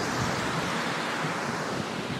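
A large sinkhole in a lake in Portugal's Serra da Estrela mountains swallows a steady, loud rush of pouring water, a dense continuous roar with no pauses.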